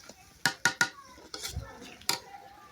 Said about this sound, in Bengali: এই যে মরিচটা হইলো কষাইতেছি এখানে